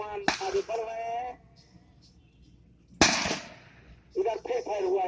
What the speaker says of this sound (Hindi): इधर फिर फायर हुआ एक